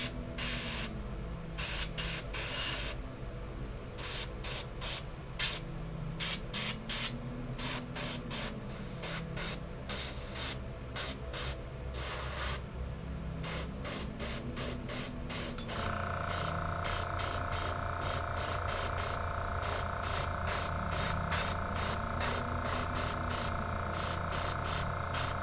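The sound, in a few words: spraying paint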